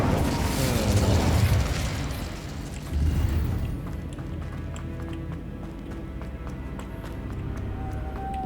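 Spell blasts from the Hogwarts Legacy video game, Confringo and Incendio, burst loudly at the start and again near three seconds, then give way to a lower rumble with scattered crackles and small pops.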